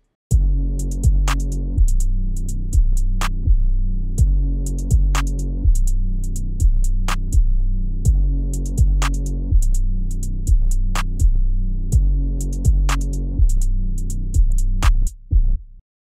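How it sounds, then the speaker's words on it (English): Looping hip-hop drum beat built in FL Studio with a bouncy hi-hat pattern over heavy repeating bass hits, steady and loud throughout, with crisp sharp ticks riding on top and an abrupt cut at the end. "I just did this hi-hat pattern, and this is kind of where like the bounce for the drums comes in."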